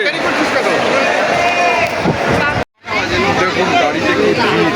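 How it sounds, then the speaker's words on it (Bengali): Dense crowd of travellers bound for the Sundarbans fills the air with continuous loud babble and overlapping chatter, close around, broken by one brief silent gap before the hubbub resumes. "ভিড় সব সুন্দরবনে যাচ্ছে"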